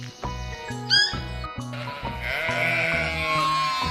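A sheep bleats in wavering cries, a sharp one near the start and a longer, louder call later, over a steady rhythmic music bed.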